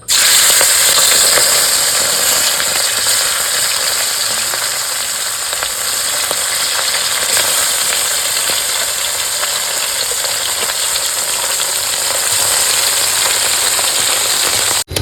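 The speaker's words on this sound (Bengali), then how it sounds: "তেল গরম হয়ে গেছে বন্ধুরা মাছ দিয়ে দেবো" Fish frying in hot mustard oil in a kadai, a loud, dense, continuous sizzle close by that holds steady throughout with no talking.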